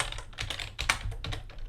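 Fast, close-up clicks of a computer keyboard as code is typed, a quick irregular run of key taps with no voices.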